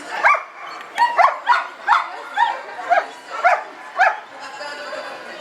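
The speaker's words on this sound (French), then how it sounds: "Ici, le chien va être travaillé à la longe." A young dog that is still a beginner, working on a lunge line, lets out a run of about nine short yips and whimpering barks in fairly even rhythm, close and loud, with a quiet pause at the end.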